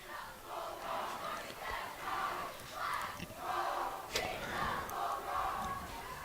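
Homecoming crowd at a varsity high school football game in Farmington, roaring and cheering in rhythmic swells while being amped up, a loud sustained stadium din with rising and falling waves and a sharp shout near the end.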